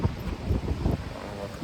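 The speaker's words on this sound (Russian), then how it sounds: "Потому что ветер сильный, продувает." Strong wind buffets the microphone in low, rumbling gusts near the sea at low tide in Florida, with a steady broadband rush of open air.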